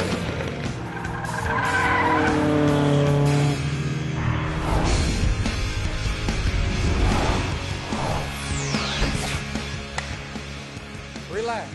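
A race car pulls away with tires squealing and skidding, engine revving hard and loud, then the sound thins as it recedes, with a high screech sweeping across near the end.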